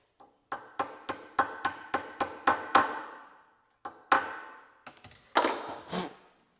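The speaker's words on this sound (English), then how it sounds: "the zerk, I'm driving it in with a 7mm socket" A grease zerk is tapped in with a 7mm socket on a Kurt machinist vise, a run of about nine sharp metallic hammer strikes in an even rhythm, a pause, then a few more scattered ringing hits.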